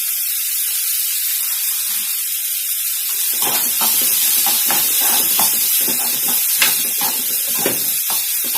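South Indian rasam heating toward a boil in a pot, a loud continuous hiss with bubbling and popping that picks up halfway through, no talk.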